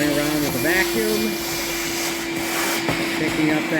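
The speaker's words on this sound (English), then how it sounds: "We're now going around with a vacuum," A vacuum cleaner runs steadily and close while picking up fine rust debris around a Chevrolet Silverado fuel tank opening, its airy hum fluctuating slightly as the nozzle moves.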